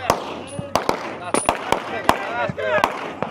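Pistol shots at the firing line of a men's 40+ regional obstacle shooting competition, a rapid series of sharp, loud cracks at a fairly steady rhythm.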